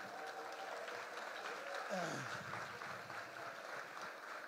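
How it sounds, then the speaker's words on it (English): At a startup pitch competition, an audience claps for the presenters and judges, a faint and distant spread of clapping with some murmured voices and a brief tonal sweep in the room. "quick round of applause for the presenters, for the judges"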